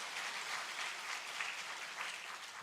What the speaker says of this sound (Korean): 박수 한번 하겠습니다.